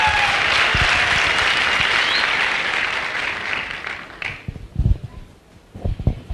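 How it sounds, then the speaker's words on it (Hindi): Loud audience applause from a crowd fills the first few seconds, then thins and fades out, leaving a few scattered claps and low murmurs toward the end. "थैंक यू, जोरदार तालियां।"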